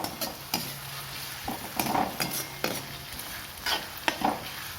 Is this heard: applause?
no